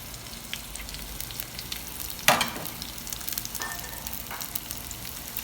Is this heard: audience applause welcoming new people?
no